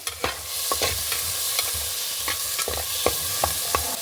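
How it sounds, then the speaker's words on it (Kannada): Cinnamon stick and two cloves roasting in hot oil with onion and chopped tomato for a cabbage curry, a steady sizzle close up under repeated scraping stir strokes of a spoon, no talking. "ಒಂದು 2-3 ನಿಮಿಷ ಹೀಗೆ ರೋಸ್ಟ್ ಮಾಡಿ ಕ್ಯಾಬೇಜ್ ಹಾಕೊಂಬ"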